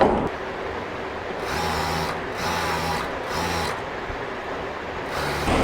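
Sewing machine stitching trouser panels: short bursts of rapid mechanical whirring with a steady buzzing rhythm, stopping and restarting several times, close and clear with no talking.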